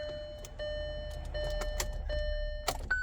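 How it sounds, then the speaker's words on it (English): A Kia Seltos being readied for salvage inspection is switched off with the key, with a series of electronic warning chimes, soft key jingles and small clicks from the cabin at close range. "I'll turn off the car,"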